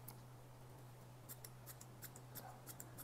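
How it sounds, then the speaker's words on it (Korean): Thinning scissors snipping through a middle-aged man's hair during a layered cut, a series of quick faint metallic clicks over a steady low hum, close and quiet with no talk. "티닝 가위를 이용해서 전체 레이어 구조로 우선은 두께감을 줄이도록"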